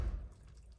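Water trickles and drips from a can onto a houseplant, a short soft pour that fades quickly, fairly quiet and close with no voices.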